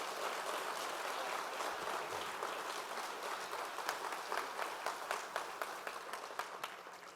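An audience at a fall convocation awards ceremony applauds continuously, steady dense clapping from a large crowd that carries on throughout without pause.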